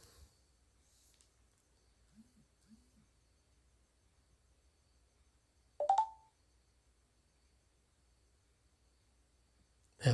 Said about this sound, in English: That was a notification on my tablet there.